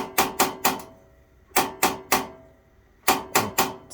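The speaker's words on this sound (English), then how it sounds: "we're going to click the starter" Auto-ignite starter on an Atwood RV propane stove clicking in three quick bursts of three sharp clicks each, close and crisp with short pauses between bursts.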